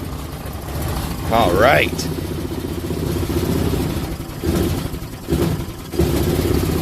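Duromax 440cc engine fitted in a Kawasaki Mule, running steadily after a cold start with a low, rough hum and a few small surges; someone speaks briefly over it.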